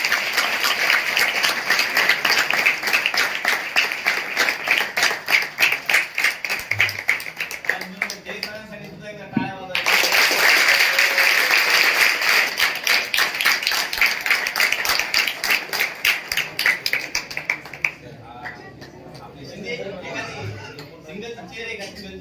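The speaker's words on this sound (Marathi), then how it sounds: "चांगल्या टाळ्या शिस्तबद्ध पद्धतीचं ते मध्ये आल्यावर त्यांचं स्वागत करायचं" Sustained clapping from a gathered crowd welcoming a guest at a birthday function, loud and dense in two long bursts with a short break between, then dying down into scattered claps and murmuring.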